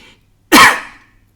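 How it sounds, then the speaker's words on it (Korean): A single sharp, loud cough from a man standing at a lectern during a Korean Catholic homily, bursting out abruptly and then trailing off into quiet with no speech around it. "기침도 하네요, 이제"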